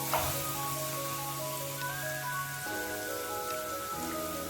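Butter melting in a pan on a stove crackles in a fine, rain-like sizzle that stays soft and continuous, with some background tones droning underneath.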